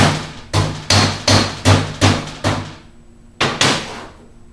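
A hammer drives a rubber seal into a utility trailer's axle hub, giving seven loud, evenly spaced close blows, a short pause, then two more strikes.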